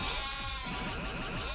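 Goats bleat in a video game minigame, a dense, wavering chorus of overlapping cries playing continuously and fairly loud without any voices.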